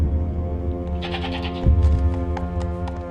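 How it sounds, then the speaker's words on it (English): A goat gives a low, wavering bleat under a steady humming drone, with a deeper throaty pulse partway through, close and continuous for a few seconds. "It's a goat."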